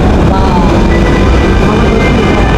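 A train departing from a station in Dhaka, heard as a loud, dense, continuous rumble and rattle of the passing carriages close by, with a voice faintly audible beneath the noise.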